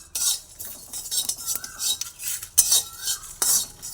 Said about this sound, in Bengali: গোটা ধনে, একটা শুকনো লঙ্কা আর একটা তেজপাতা, সব একসঙ্গে একটু কড়াইয়ের মধ্যে ভেজে নেব